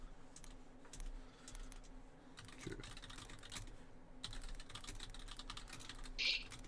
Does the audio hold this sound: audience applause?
no